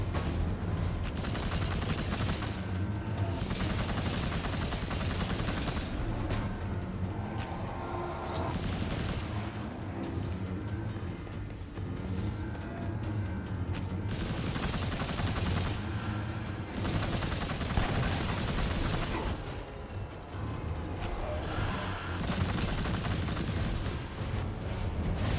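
Gunfire in the action RPG video game Immortal: Unchained rattles in dense, continuous bursts mixed with booms and explosions, loud and unbroken through the stretch with no talk.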